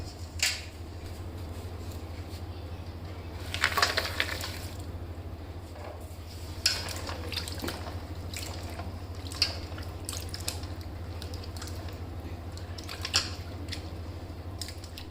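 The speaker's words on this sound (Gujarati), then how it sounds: "હવે આપણે એને એકવાર સારી રીતે પાણીથી સાફ કરી લઈશું" Mango seed kernels being washed make soft water splashing and dripping, with intermittent sloshes and clinks over a low steady hum.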